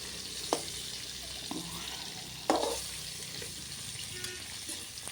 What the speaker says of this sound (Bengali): আর এখানে রান্না করছে হচ্ছে মাছের মুড়ো ভাজছি